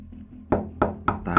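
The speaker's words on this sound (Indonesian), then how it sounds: "dan mengetuk pintunya." Four sharp knocks on a house door, close and fairly loud, in an uneven rhythm that quickens toward the end, with nothing else heard.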